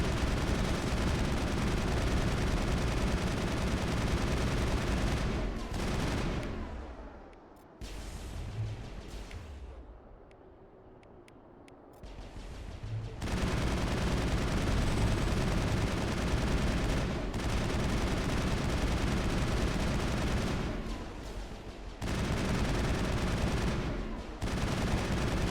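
Sustained, dense gunfire from a firefight in the sci-fi shooter Mass Effect, loud and nearly continuous with a few brief lulls and one longer pause before the shooting resumes.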